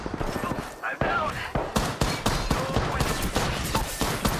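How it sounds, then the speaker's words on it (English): Enemy gunfire aimed at the player in Apex Legends, a rapid burst of sharp close shots in an irregular volley with speech mixed in. "They spotted me and I'm taking shots. They're shooting at me."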